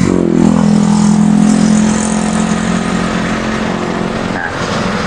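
A Mitsubishi Pajero Sport engine idles at a raised speed with the air conditioning switched on, a loud, steady mechanical drone with a slight rise in revs near the start, heard close and alone.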